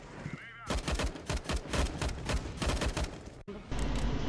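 Gunfire from a shooter video game replay crackles in rapid, dense bursts like automatic weapons, loud and continuous with a brief cut near the end, over steady game background noise.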